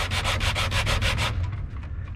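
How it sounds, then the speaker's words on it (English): Steady back-and-forth scraping of a sanding block on a wooden boat's wood, rhythmic strokes close up, then fading to lighter rubbing. "I'm just sanding it down with a sanding block"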